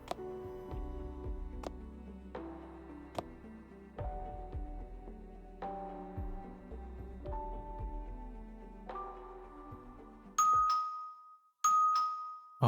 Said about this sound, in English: The doorbell again.